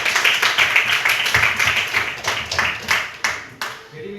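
A class of students claps together, a dense rapid round of hand claps that carries on for several seconds and thins toward the end, with faint voices underneath.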